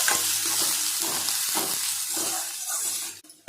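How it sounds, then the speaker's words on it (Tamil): Onions sautéing in a pan until golden, a steady close sizzle and frying hiss with faint stirring scrapes throughout, briefly dropping off at the very end. "வெங்காயம் வந்து நல்லா வதங்கி வரணும் நல்லா பொன்னிறமாக வதங்கி வரணும்"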